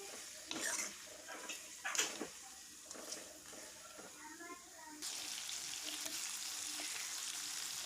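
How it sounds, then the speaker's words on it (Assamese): Local chicken meat fries with onions in a pan, a soft continuous sizzle that grows steadier and louder partway through, with occasional clinks and scrapes of stirring and faint voices in the background. "পিঁয়াজখিনি ভালদৰে গলি যোৱালৈকে মই মাংসখিনি ভাজি ল'ম"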